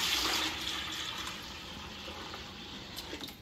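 Hot water runs steadily from a tap to mix a soapy cleaning solution for detailing a barn-find C4 car interior, a soft continuous splashing hiss heard alone at low level.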